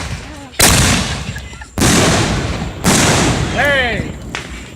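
Fireworks burst nearby in three loud, sharp booms spaced about a second apart, one trailed by a rising whistle, with voices heard among the blasts.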